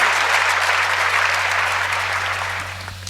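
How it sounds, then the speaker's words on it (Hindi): Dense, steady applause from an audience at a Hindi comic poetry show fills the moment up close, then tapers slightly toward the end. "ताली बजाओ यार।"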